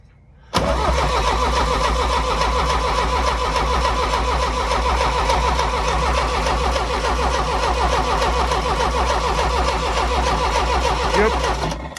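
A John Deere 2010 diesel tractor engine cranks steadily and loudly for about eleven seconds with a rapid, even rhythm, the sound cutting in abruptly and holding a constant drone without catching.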